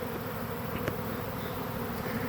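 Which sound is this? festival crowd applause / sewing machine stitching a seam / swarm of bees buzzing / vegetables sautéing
swarm of bees buzzing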